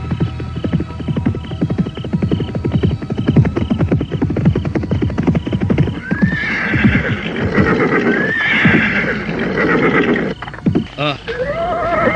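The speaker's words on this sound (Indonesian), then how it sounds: "kuda itu telah berderap menjauh dengan seekor kuda putih lain yang mengikuti di belakangnya" Horses neighing loudly and close, with hooves clip-clopping as they gallop away and a white horse follows behind; a voice speaks over the first half.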